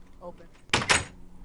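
A door in the Minecraft video game opening or closing, one short, loud wooden creak-clack heard close up, preceded by a faint brief game sound.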